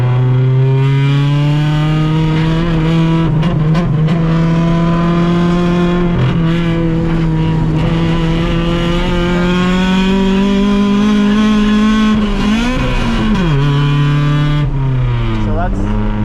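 A 1992 Honda Civic DX EG hatchback with a swapped H22A engine screams at full throttle in second gear on a track, loud, sustained and climbing in pitch, with brief dips at shifts and someone talking over it.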